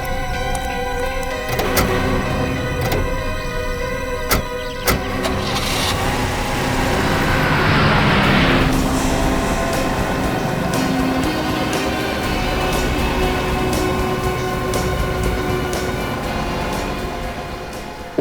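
An open jeep is driven fast, its steady engine and road roar running continuously for the whole stretch, with a brief swell midway and a gradual fade at the end.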